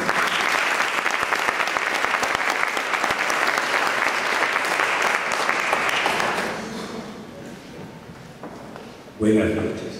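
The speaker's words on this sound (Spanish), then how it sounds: "Un aplauso para el maestro." Strong, sustained audience applause fills an awards ceremony hall honoring a maestro, dense and steady for about six seconds before fading, then a voice begins speaking near the end.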